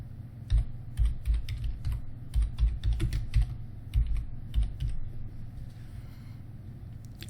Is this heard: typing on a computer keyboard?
yes